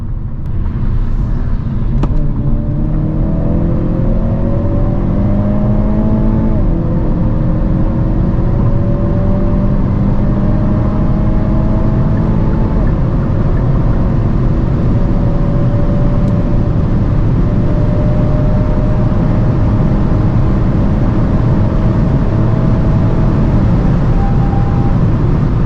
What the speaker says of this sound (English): let's now see how fast the car goes 100 to 200 using that 20-second extra power N Grin Shift